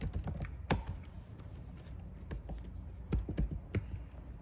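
Fingers tap steadily on a computer keyboard while a command is typed into a terminal, with irregular clicks and a few sharper key strikes, close and alone without speech.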